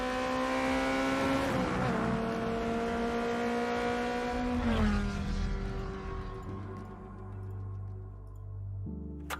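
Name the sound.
race car engines and tire squeal, Forza Motorsport video game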